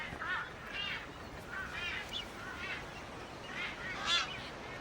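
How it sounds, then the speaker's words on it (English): Masked boobies calling in a seabird colony on a sparse, dry island, honking cries coming in a series of separate bursts at moderate distance over a faint background hiss. "These are marsh boobies."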